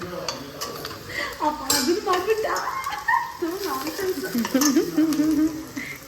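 A non-veg dish sizzles in a pan while a spoon stirs and scrapes it, with clinks against the metal, as people talk over the cooking.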